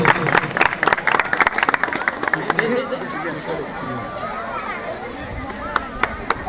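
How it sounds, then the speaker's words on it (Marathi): Loud clapping from a village crowd at a felicitation ceremony in Mete village, Khed, Ratnagiri: a dense burst of claps that thins out after a couple of seconds as voices and chatter take over. "जोरदार टाळ्या होत्या"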